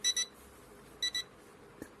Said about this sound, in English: after some time and alarm stops.